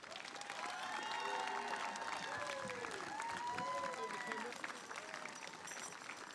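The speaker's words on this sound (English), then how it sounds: "let's put a round of applause together for your 2025 champions" Crowd applause for the 2025 Petone champions at the WRFU Tia Paasi Memorial Trophy rugby final, steady and sustained throughout with a few voices talking over it.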